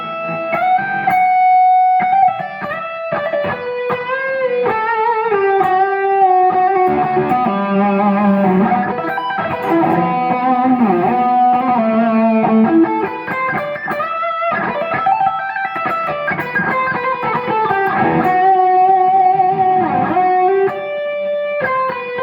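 A distorted Kiesel K-Series electric guitar plays a sustained lead line, with smooth legato runs and bends, loud and close, without any voices.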